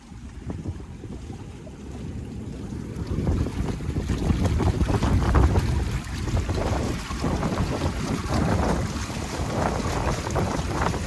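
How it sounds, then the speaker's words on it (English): A sailboat running under sail with its engine off on the Intracoastal Waterway, steady wind buffeting and rushing water with splashes of small waves along the hull, no voices. "We're making 8 knots sailing down the ICW. I turned the engine off pretty much right after I got the sails up"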